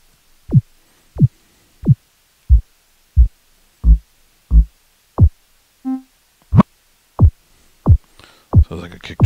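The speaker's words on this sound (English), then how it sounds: "Sounds like a kick drum." A kick drum rhythm sound played on a Yamaha Tenori-on thumps in a steady, evenly spaced beat of about a dozen short, deep hits, clear and close, with a faint blip midway and a voice at the end.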